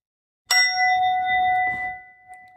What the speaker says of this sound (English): The hollow notes of a temple bell.